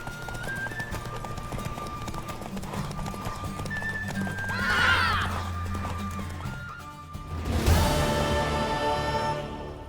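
A horse clip-clops at a gallop and gives a loud neigh in the video game The Witcher 3, with hoofbeats steady throughout and a sharp whinny near the end.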